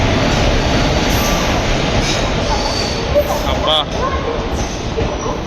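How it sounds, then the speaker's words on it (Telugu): Aboard the Pinakini Express intercity train from Vijayawada to Chennai, a continuous rattling rail rumble fills the coach with faint squeals near the end, while a voice briefly exclaims over it. "పినాకిని ఎక్స్ప్రెస్ ఎక్కేసానండి"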